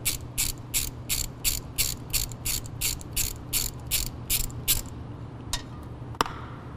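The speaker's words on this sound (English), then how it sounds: "Get your socket on there. Loosen the drain plug." A socket ratchet cranks a differential drain plug loose under a machine's skid plate: a steady run of about fifteen crisp, evenly spaced clicking bursts, close and clear, then a couple of lone clicks as it stops.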